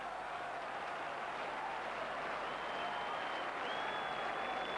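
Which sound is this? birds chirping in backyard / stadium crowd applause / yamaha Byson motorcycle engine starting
stadium crowd applause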